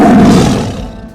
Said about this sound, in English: It's a tiger. What sound does a tiger make?